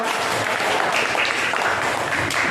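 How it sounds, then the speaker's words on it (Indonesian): Children in an Islamic religious education classroom applaud together, a loud, continuous burst of clapping from the whole class filling the short moment. "Beri tepuk tangan."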